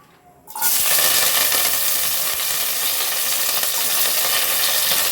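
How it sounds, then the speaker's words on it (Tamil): A medium onion and curry leaves drop into hot oil for a chicken kuzhambu, bursting into a loud, steady sizzle that starts abruptly and crackles on without pause. "ஒரு மீடியமான சைஸில் ஒரு வெங்காயமும் கருவேப்பிலையும் இதில் சேர்த்துடலாம்"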